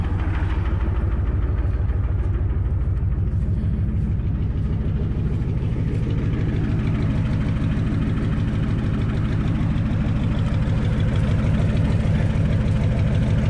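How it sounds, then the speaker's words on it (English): An old car engine that sat for 12 years idles steadily through straight exhaust with no mufflers, a loud, even, low throbbing rumble that runs unbroken throughout, with no voices. "Holding a good steady idle"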